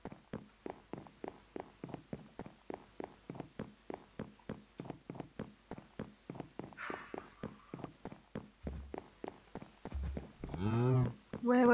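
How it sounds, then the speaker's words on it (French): Minecraft cow lowing in a long wavering moo that rises near the end, heard over a steady run of rhythmic footstep-like clicks from the video game, with no talk. "Ouais, je sais, la vache, salut."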